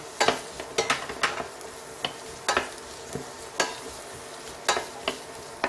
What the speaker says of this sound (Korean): 버터가 녹으면 먼저 양파를 엮어 볶아주세요.